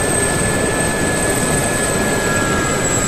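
A simulated helicopter's rotor and engine from the DCS World flight simulator produce a loud, steady whine and drone that continue unbroken, with no talking.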